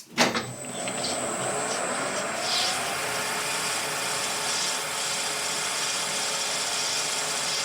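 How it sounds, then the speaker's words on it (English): A lathe insert cuts a 2 mm groove, about 0.5 mm deep, into a mandrel fixture on a metal workpiece, giving a steady, continuous broadband cutting and machine whir that holds constant throughout after a brief start, with no talk. "now I need to cut a 2mm groove to remove the corner radius caused by the insert."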